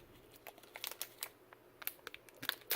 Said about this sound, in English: Take it out of the static bag.